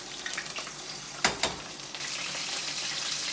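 Asparagus sizzles steadily in a hot pan, with a couple of sharp clatters as it is stirred or moved around.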